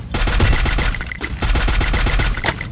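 Gunfire in the video game Free Fire: a loud, close, rapid automatic string of shots in rhythmic bursts with a brief pause in the middle, and no talking.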